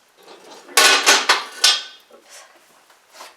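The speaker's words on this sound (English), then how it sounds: "So we're going to close the oven" A heavy metal door of a brick hearth bake oven is swung shut, giving a few loud clanking, scraping knocks close by, followed by fainter rattles and settling clatter.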